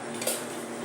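A metal kadai set down on a kitchen stove before frying egg with tamarind leaves, heard as a single brief clink of metal against metal under a steady hum.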